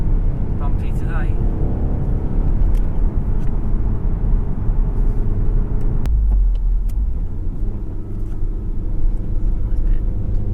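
A VW Golf R on Michelin Pilot Sport 4 tyres drives a bumpy, slippery road, its steady engine and road rumble loud and continuous throughout, with a deeper thump near the middle as the surface changes, while a person talks over it.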